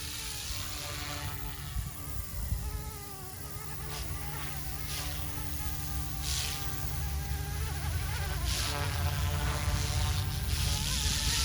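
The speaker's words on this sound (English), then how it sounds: "The tail motor is a little louder." An OMPHOBBY M2 Explore RC helicopter in flight gives a steady, high-pitched buzzing whine from its main and tail motors, constant and fairly close, alone without voices.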